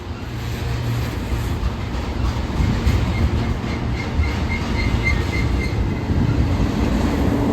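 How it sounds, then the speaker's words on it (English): A Union Pacific freight train led by two SD70ACE locomotives, with another engine at the rear, rolls past slowing to a stop: a steady heavy rumble with clickety-clack and intermittent high wheel squeal. "Yep, this train is slowing down."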